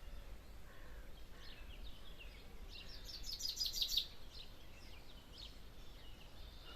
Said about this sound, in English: can you hear that bird in the background?